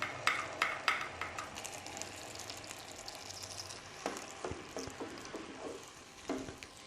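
Ground onion and green chili paste going into a hot frying pot, giving a soft sizzle with a run of stirring clacks and scrapes, quiet and close, with no voices.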